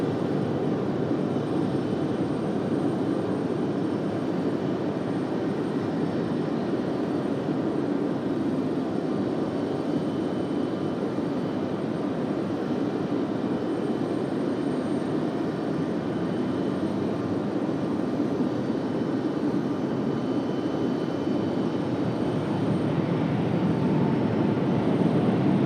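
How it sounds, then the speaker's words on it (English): Frontier airliner arriving at Raleigh-Durham from Fort Lauderdale, a continuous low jet rumble holding steady and swelling slightly toward the end, alone without talk. "Frontier coming in now from Fort Lauderdale."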